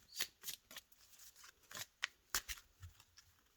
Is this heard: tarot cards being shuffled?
yes